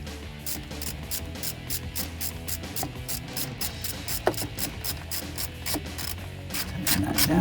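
Ratchet tightening a hose clamp on a 2017-2020 Ford F150 3.5L EcoBoost cold air intake, giving quiet, rapid, evenly spaced clicks that run steadily for several seconds, close up, with a faint knock partway through.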